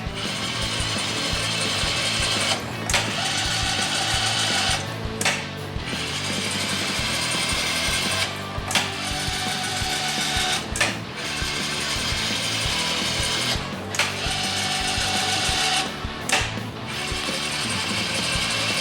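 Babin Machine TML-5Cst lathe doing servo threading without coolant, a continuous mechanical machining whir with repeated short breaks as the tool makes passes and rapidly retracts, steady and fairly loud with no talking.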